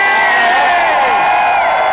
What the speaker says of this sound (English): And the rest of you can cheer for them too for contributing.